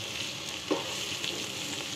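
Chowmein noodles sizzling and frying in a hot pan while being stirred gently, a steady close crackle with a brief louder scrape of the spatula partway through.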